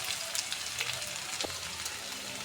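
Ginger, garlic and spices fry in a pan with a soft, steady sizzle while being stirred, marked by a few light scrapes and clicks, close but fairly quiet.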